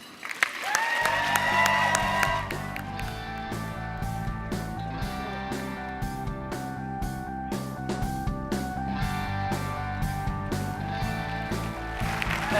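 Sustained applause from a large audience at a workplace summit, dense steady clapping filling the hall for about twelve seconds as a speaker is welcomed on stage.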